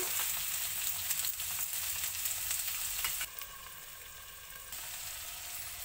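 Ivy gourd (dondakaya) with coconut frying in a pan, a steady, close sizzle that runs throughout, briefly dropping in level midway before picking up again; no one speaks.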